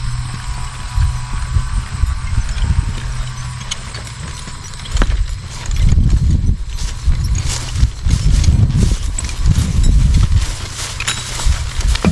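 Heavy hooves thud and clop on the ground in uneven bursts, with jingling harness noises and a low hum throughout.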